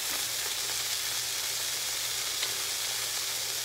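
Hamburger steak sizzles steadily in a hot frying pan, a continuous crackling hiss up close with no voices.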